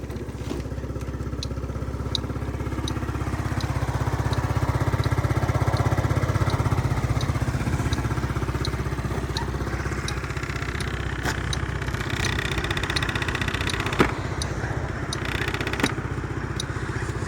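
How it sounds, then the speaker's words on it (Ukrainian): A Yamaha Cygnus X-125 SR scooter engine idles steadily with a low continuous drone and faint rattling from a slightly vibrating cover, with occasional light clicks and a brief clank near the end. "Чудово працює двигун, без ніяких там питань взагалі."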